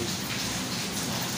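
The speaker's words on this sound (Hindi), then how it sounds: "बारिश भी शुरू हो चुकी है और जो है काफ़ी हो रही है" Dense, steady downpour hisses loudly and evenly throughout, heavy rain close by with no voices.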